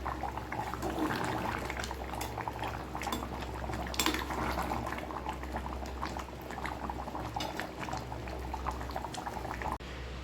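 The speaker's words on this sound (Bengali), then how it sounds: "তাই ভাবলাম আর একটু মাংসটা জাল দিই" Mutton curry gravy simmers on the stove in a pot, a soft, continuous bubbling and gurgling close by with a faint low hum underneath, steady for about ten seconds.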